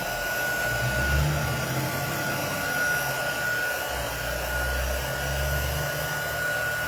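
A heat tool blows steadily over a craft surface to dry it, making a continuous close, loud whooshing whirr with a low hum and no pauses or speech throughout.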